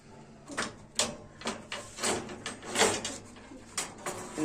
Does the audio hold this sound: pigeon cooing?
yes